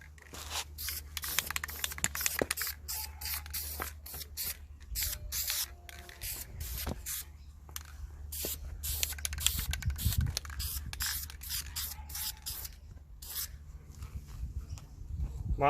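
Spray gun applying base coat to a car, covering edges, heard as repeated bursts of broadband hissing spray with short gaps, fairly close and steady, with no talking.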